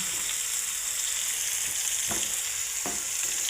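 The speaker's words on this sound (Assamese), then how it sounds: "সৰু বাগনা আৰু পটল ভাজি আছে। টাৱাখনতে ভাজিছোঁ" Small brinjals and pointed gourd fry on a flat tawa with a steady, close sizzle and hiss, and two short scraping stirs break through partway along. No one speaks.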